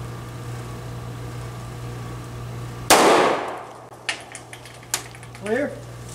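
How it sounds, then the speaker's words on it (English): A single 9mm gunshot with a 115 grain full metal jacket round fired at a door, one loud sharp crack that decays quickly, followed by faint clinks and handling sounds and a brief voice. "first up is our 9mm. First shot at 45 degree angle."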